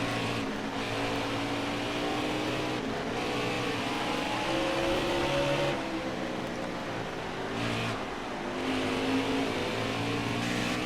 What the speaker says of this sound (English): So I'm trying to be careful with this race car.